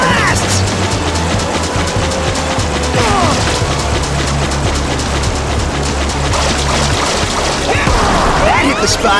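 Fire blast attacks in Teenage Mutant Ninja Turtles 2: Battle Nexus, a loud dense game mix of crashing booms, mechanical clatter and rushing water against a constant rumbling music bed, with no talk.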